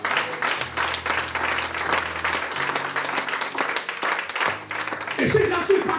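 A church congregation applauding to acclaim the Lord: sustained, dense clapping from many hands, steady for several seconds over a low background tone, with a voice rising near the end.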